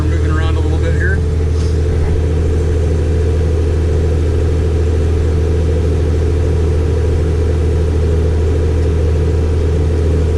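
A farm machine's engine runs steadily during a corn harvest, a loud, constant low rumble and drone that persists throughout, with a brief brighter sound near the start.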